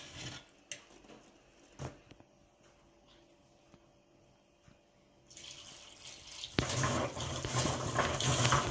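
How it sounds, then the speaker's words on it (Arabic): Lime-cured green olives are washed in plain tap water. A few faint drips and clinks are followed by water running steadily into a container, getting louder and splashing over the last few seconds. "راح نغسلهن يعني كذا وجه بالمي العادية، راح نغسلهن تقريبا 4-5 مرات حتى يروح أثر الكلس منهم بالكامل"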